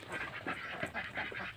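Laying ducks quacking inside their coop, a dense run of overlapping nasal quacks from several birds in quick, uneven succession, fairly close and alone without talk.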